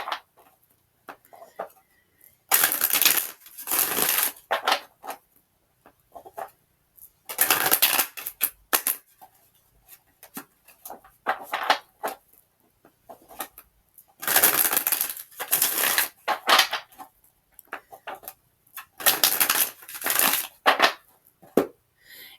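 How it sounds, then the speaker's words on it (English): Tarot cards shuffled by hand during a reading, bursts of crisp riffling and slapping in close succession, separated by brief quiet pauses, close and fairly loud. "I record it so that you know I'm shuffling"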